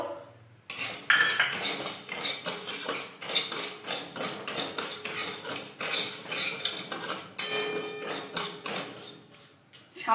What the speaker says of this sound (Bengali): গ্যাস অন করে কড়াই বসিয়ে দিয়েছি এবার প্রথমে ডালিয়াকে একটু রোস্ট করে নেবো